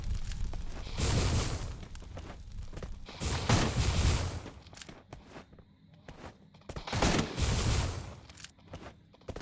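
Gunfire in the mobile shooter Free Fire arrives in three loud bursts of rapid shots, separated by quieter stretches with small clicks and footstep-like taps.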